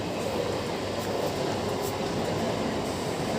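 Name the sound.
passing train heard from rooftop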